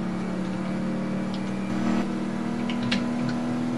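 A car driven at top speed in the racing game Test Drive Unlimited 2, with a steady, droning engine hum and a constant tone that stays level and unbroken.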